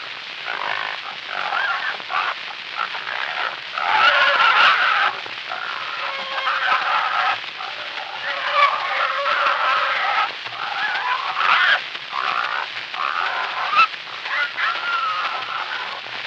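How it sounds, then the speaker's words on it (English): An 1895 phonograph home recording of barnyard animals, with clucking fowl and other animal calls heard faintly through a constant band of hiss and surface noise that continues for the whole recording. "Here's an actual home recording of barnyard sounds from around 1895"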